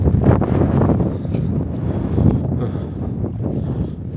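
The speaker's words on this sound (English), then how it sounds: "But it's windy, rainy, and cold." Strong wind on a cold, rainy Colorado mountain trail, a loud steady roaring buffet against the microphone throughout with no break.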